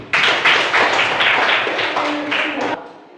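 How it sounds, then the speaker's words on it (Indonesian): Students in a classroom clap together in loud, rhythmic bursts that stop abruptly near the end, with voices mixed in. "Tepuk tangan."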